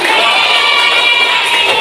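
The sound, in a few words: applause and cheering from students in class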